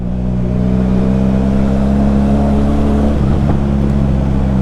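A big bike motorcycle engine rumbles loud and deep in EDSA traffic, a steady low drone close to the listener with a brief throttle shift near the end.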